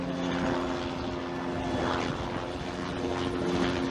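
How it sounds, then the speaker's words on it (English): An old helicopter flying overhead in a military town, a steady loud rotor and engine drone with strong low harmonic hum lasting throughout, no talk over it. "hold on, we got old helicopter"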